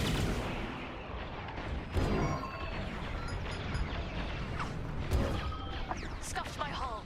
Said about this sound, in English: That missile made contact.